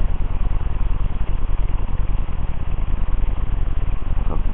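A motorcycle engine idles with a low, steady, pulsing rumble, picked up through a computer microphone and heard muffled and continuous.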